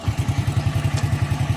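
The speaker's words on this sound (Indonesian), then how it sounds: "Untuk kickstarter kita coba ya" A Honda Astrea motorcycle is kick-started and thumps along in a quick, even low rhythm, close and fairly loud, with no voices over it.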